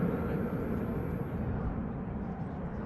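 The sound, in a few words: Lufthansa Airbus A321neo departing and climbing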